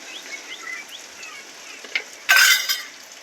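A utensil stirs food in a pan with soft scraping and light clinks, then a louder sizzling scrape near the end, and faint bird chirps sound in the background.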